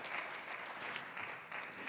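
A small group claps steadily in the distance at a graduate pinning ceremony, soft and scattered, with no voices over it.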